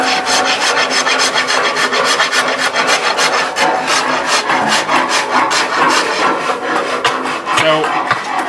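Someone whittles and files a wooden hand guard for a Robin Hood-style bow, making loud, close rasping strokes in a quick, steady back-and-forth rhythm.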